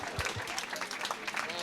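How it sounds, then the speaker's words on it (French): Brief, fairly quiet clapping from a film festival audience, light scattered hand claps under overlapping talk in the room. "normalement, ça se fait debout, un applaudissement"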